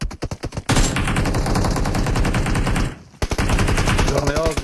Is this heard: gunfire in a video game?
yes